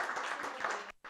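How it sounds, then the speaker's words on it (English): Audience clapping at a human rights symposium, a brief dense burst of applause that cuts off abruptly near the end. "You are hearing the clap."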